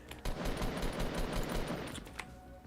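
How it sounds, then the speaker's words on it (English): Rapid automatic gunfire in Fortnite during a firefight, a dense stream of shots running nearly continuously through the clip at steady loudness, with no talking over it. "Oh, sorry, I'm shooting somebody."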